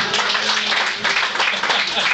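Applause from a full audience at a comedy show, a dense, even wash of clapping heard throughout at moderate volume, with voices faintly mixed in.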